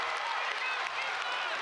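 Basketball arena crowd at a Portland versus Pepperdine men's college game roaring and cheering steadily, a dense, continuous wash of voices with some applause, loud and sustained throughout.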